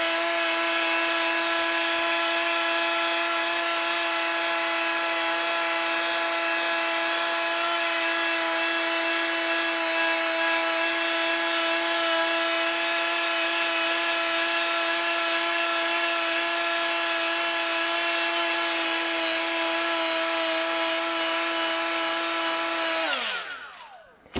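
Milwaukee right angle die grinder running steadily on blued metal, a loud, sustained high whine with strong harmonics, close, continuous for over twenty seconds before spinning down at the end.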